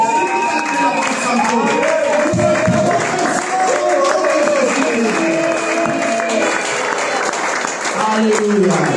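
Church congregation at a Sunday service applauding for Jesus, loud sustained clapping from a large crowd with voices and cheering mixed in throughout.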